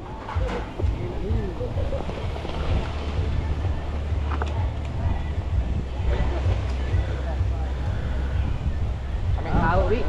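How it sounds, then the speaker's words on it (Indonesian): Strong wind buffets the microphone at a seaside fishing spot, a steady loud rumble throughout with surf and boat noise beneath and people talking over it. "Kuatnya angin."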